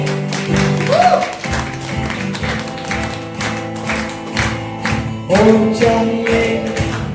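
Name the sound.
church congregation clapping for Jesus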